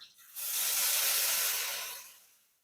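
Nut, sesame and ginger spice paste hits hot oil with nigella seeds and slit green chillies, bursting into a loud, close, broadband hiss that swells and slowly fades over about two seconds.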